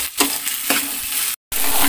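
Curry leaves, onion and green chilli fry in hot oil, a steady bright sizzle broken by a few stirring scrapes and one brief gap.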